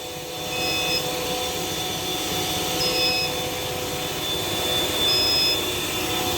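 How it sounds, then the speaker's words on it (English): A hair dryer runs on a VEVOR 12 V 3600 W inverter at low voltage, giving a steady loud whooshing drone with faint high tones from the inverter. "I'm going to turn off the hair dryer for a second."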